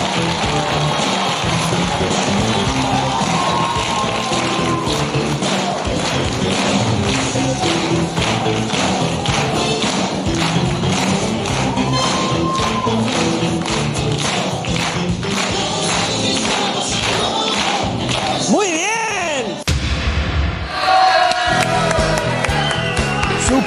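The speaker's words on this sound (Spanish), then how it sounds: "Un aplauso para él." A Chilean television studio audience claps and cheers loudly for a costumed guest, a dense continuous wash of applause with whoops throughout, briefly dipping near the end before surging again.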